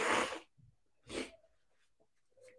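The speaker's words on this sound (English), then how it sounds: "I'm sneezing because sometimes I sneeze when there's a change in temperature" A person sneezes loudly and abruptly at close range, followed by a second sneeze about a second later and some faint breathing and small sounds afterward.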